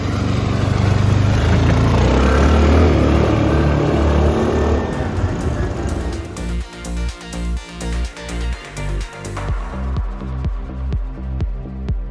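A diesel car fitted with a DPF and a newly replaced DPF sensor pulls away on a road in Kyiv. Loud, close engine and road rumble gives way to a rhythmic series of thumping pulses as it drives off.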